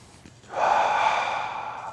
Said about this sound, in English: As I'm pushing, I'm breathing.